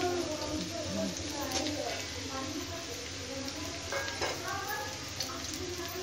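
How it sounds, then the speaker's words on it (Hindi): Onion goes into browning potatoes in a pan, and steady frying sizzle and stirring scrapes run throughout at moderate level beneath someone speaking Hindi. "इधर मेरा आलू भी ब्राउन हो चुका है, तो अब मैं इसमें ऐड करूंगी प्याज"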